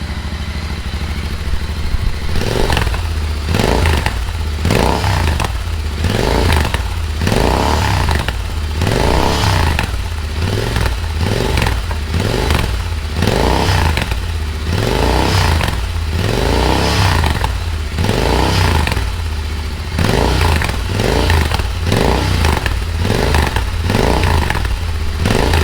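Royal Enfield Interceptor GT 650 with an AEW TE102 stainless megaphone exhaust revved repeatedly to about 4000 RPM, loud and close, a series of rhythmic throttle blips rising and falling with rattly, raspy exhaust bark and no talking.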